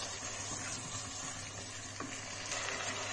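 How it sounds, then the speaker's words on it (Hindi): Sliced tomato is stirred into frying chicken jalfrezi, a quiet continuous sizzle with faint wet stirring and occasional soft scrapes, with no talking. "और इसको इसमें मिक्स कर लेंगे"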